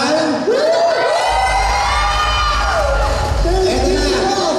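A large audience at an STI Night 2014 school event cheers, whoops and shouts loudly for the whole stretch, a dense crowd roar with high children's voices rising above a low rumble.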